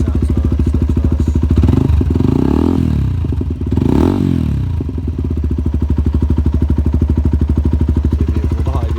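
A Zontes ZT 125 U motorcycle engine idles close by with a rapid, steady thumping pulse, rising in two brief revs before settling back to a loud, even idle.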